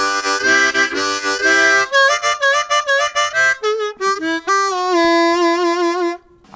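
Hohner Marine Band 125th anniversary harmonica, a reissue of the original 1896 model, playing a short phrase of chords and single notes, close and clear, with no talking.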